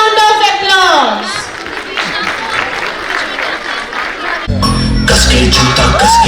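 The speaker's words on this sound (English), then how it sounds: "Give them a huge round of applause." Audience at a children's annual school function applauds and cheers performers, dense clapping with whoops rising from a crowd, with a loud voice and music cutting in near the end.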